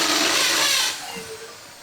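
A loud, brief electric drill whir, drilling into plastic, spins down after about a second into a fading mechanical hum.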